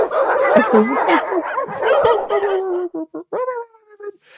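Dog barking used as a segment sound effect on a podcast, a loud flurry of overlapping barks and yips that thins into a few separate whining, howl-like calls at the end.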